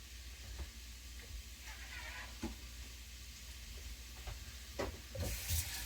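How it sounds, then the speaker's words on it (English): Faint, steady sizzling hiss of meat frying for a meat lovers pizza, with occasional clicks and clatters nearby. "I don't know if you can hear it from there, but it is a sizzling"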